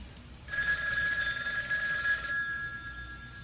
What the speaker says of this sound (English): Master Stuntman Jack Edison picks up a ringing phone.